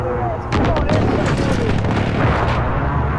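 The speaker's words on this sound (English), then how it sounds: "Allied precision airstrike." Heavy booming explosions from an allied precision airstrike in Call of Duty: Modern Warfare during a headquarters match, a loud continuous rumble with sharp crackling blasts layered on top.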